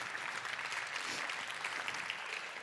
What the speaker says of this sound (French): on peut vous applaudir pour tout ça